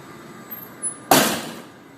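A door fitted with a closer lacking back check swings open and bangs hard against the wall in a single loud, sharp impact that rings out briefly before fading, after a few soft creaks.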